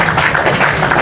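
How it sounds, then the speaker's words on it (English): A brief, dense burst of clapping, loud and close, with no talking over it. "Round of applause for me because I'm not going to school."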